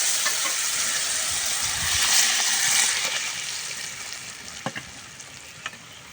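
Cumin seeds frying in hot oil give a steady loud sizzle, then lentils tipped in bring a surge of hissing and spattering, followed by a few sharp clicks of stirring as the sizzle settles.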